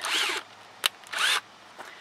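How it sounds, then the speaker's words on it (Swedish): Two bursts of a power drill whirring while removing a Volvo front bumper, each about half a second, separated by a short sharp click, with a faint brief whir near the end. "då får man ta hjälp av en borrmaskin"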